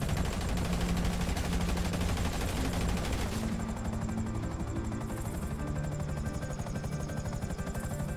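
Rapid gunfire rattles in a roleplay video game over a loud, constant helicopter-like rotor drone, with bursts of shots dense at first and then easing off.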